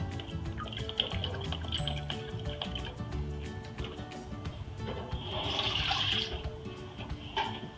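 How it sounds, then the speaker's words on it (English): Honeycrisp apple cider poured for a whole-chicken brine, a steady splashing, gurgling stream of liquid running for several seconds, close and fairly loud with no talking. "Then we're gonna use 1 cup of Ryan's Honeycrisp apple cider"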